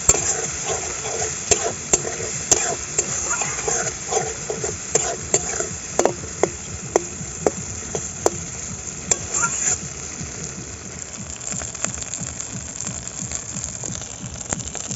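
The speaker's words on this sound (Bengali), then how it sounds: "এবার আমি মশলা ধোয়া জলটা দিয়ে মশলাটা ভালো করে কষিয়ে নেব" Spice paste for a chicken curry sizzles steadily in a pan as water is added and stirred, with repeated sharp scraping clicks of a spoon against the pan over a continuous frying hiss, close and moderately loud, no talk.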